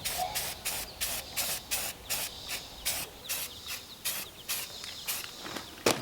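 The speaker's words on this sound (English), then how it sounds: "I'm spray painting these flat black because I don't really want anything shiny." An aerosol can of flat black spray paint hisses in quick, evenly spaced bursts, over a dozen short sprays in a steady rhythm, close at hand.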